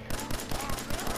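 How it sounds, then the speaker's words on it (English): Rapid, steady bursts of automatic gunfire from an endless-ammo gun in Fallout 4 on PS4, a loud repeating rhythm of shots with no pauses. "this gun doesn't do much damage, but it's unlimited, so I can just fire to my heart's content"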